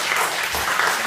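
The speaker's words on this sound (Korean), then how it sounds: "박수 한번 주시면" Dense, loud applause from a church congregation honoring two pastors, a brief burst of continuous clapping.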